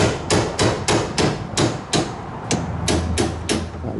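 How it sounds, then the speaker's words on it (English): A hammer strikes the metal locking ring around the fuel tank of a 2006 Hyundai Sonata V6, about a dozen sharp, close metallic blows in a steady, slightly uneven rhythm. "This will require some force, so have like a hammer and maybe like a pry bar close."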